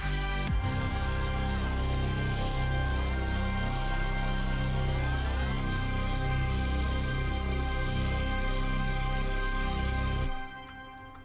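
Dense trimmed music track from the Five Nights TD soundtrack, with a steady pulsing low end under layered sustained harmonic parts, playing loud and continuous before cutting off abruptly near the end.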